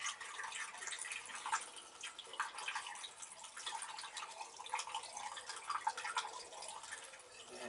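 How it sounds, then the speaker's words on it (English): Water tipped into a 20-litre container of premium 97 octane unleaded petrol, a steady trickling, dripping pour that continues throughout at close range with no talking. "If I want to just tip the water in there."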